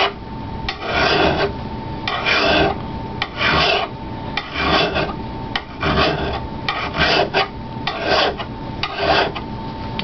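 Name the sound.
metal file sharpening an axe edge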